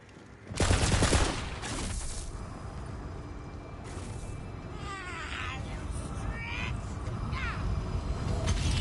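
Gunfire in the Tiny Tina's Wonderlands video game, fired at raw quartz holding up rocks: a loud, close burst of rapid shots, a second shorter burst and a later single volley, set over a constant game ambience with chirping tones.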